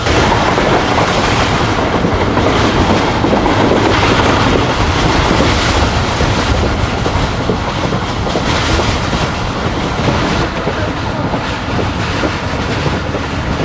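The 48 Down Rahman Baba Express in Pakistan, pulled by locomotive HJ120, makes a loud, continuous rumble with steady clatter, heard close and with wind buffeting throughout.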